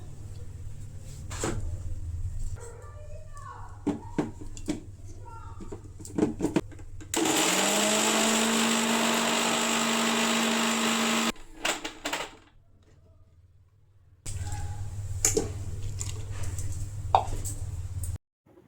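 An electric blender grinds garlic cloves in two loud, steady whirring bursts of several seconds each, separated by a quiet pause, with handling clatter and low hum before and between.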